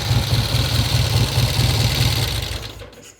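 A 1972 Triumph TR6 with a 5-speed gearbox runs close by at a steady, slightly uneven idle, a loud rhythmic engine drone that fades out at the end.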